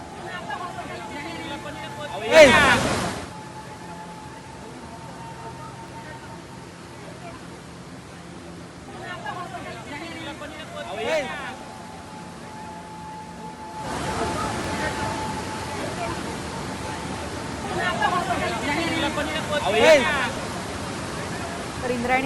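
Swollen Indrayani River rushing beneath a collapsed bridge, a broad steady roar of water with bursts of distant crowd shouting and babble rising over it, louder in the second half.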